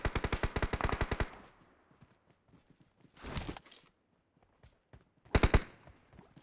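Gunfire in the mobile battle-royale game PUBG Mobile: a rapid burst of automatic shots, followed by two shorter bursts, with scattered quiet clicks between and no talk.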